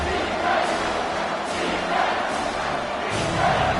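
Steady roar of a packed football stadium crowd just before a third-down snap, a loud continuous wash of cheering with swelling peaks and faint commentary beneath.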